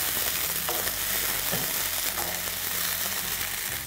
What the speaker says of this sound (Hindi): अब डलेगा इसमें अदरक लहसुन का पेस्ट और इसे अच्छे से मिक्स कर लेंगे।